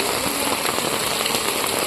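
Water rushes and splashes steadily through a village canal in Vagaikulam, Tirunelveli, swollen after rain, producing a dense, continuous broadband hiss with no pauses, close and fairly loud.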